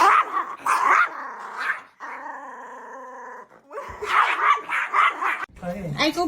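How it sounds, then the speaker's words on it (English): Pet dogs growl and bark at each other as a scuffle begins, loud, close bursts of snarling and yipping with a steadier growl in the middle, and a person talks over parts of it. "My dogs are gonna start fighting."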